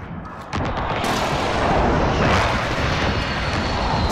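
An incoming strike hits in a military video game: a sudden loud explosion that swells into a sustained roaring, rumbling blast filling the rest of the clip, with no voice over it.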